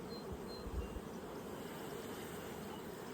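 Bees hum and buzz in a dense, steady drone over an open hive frame during an inspection, close and continuous with no voices.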